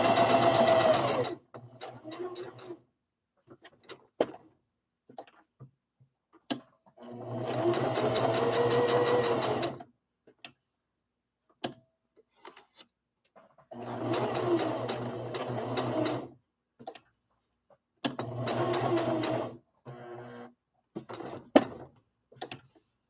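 A sewing machine stitches rag doll fabric at a short stitch length in four bursts of loud, rapid whirring, separated by quiet pauses with small clicks as the handwheel is turned.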